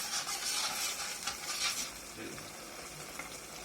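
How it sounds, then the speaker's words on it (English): Makhani gravy is sautéed in a pan, giving a steady, close hiss and sizzle with occasional stirring scrapes and no one talking. "It's being sauteed. It will take some time to lose the raw flavor."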